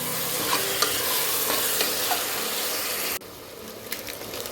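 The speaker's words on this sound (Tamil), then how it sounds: "இதில் மஞ்சள்தூள் கொஞ்சம், தேவையான அளவு உப்பு சேர்த்து நல்லா கலந்து விட்டுக்கோங்க." Tomato rice with turmeric and salt being stirred in a pan, a steady sizzle with occasional scraping clinks of the spoon that drops to a quieter level near the end, no talking.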